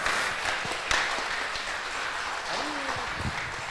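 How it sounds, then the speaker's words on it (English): Scattered applause from a summit audience in a coworking space: a soft wash of clapping that stays low and distant throughout, with voices talking over it. "Would you guys give these guys a round of applause?"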